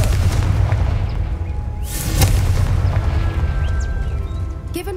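Confringo spell blast in the video game Hogwarts Legacy: a sharp, booming explosion bursts out near the middle over a rumbling low backdrop, with a smaller crackling pop near the end.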